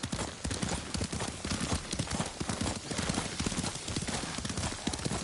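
Steady, rapid clip-clop of a horse's galloping hooves in a video game, continuous and fairly loud, with a rushing background noise throughout.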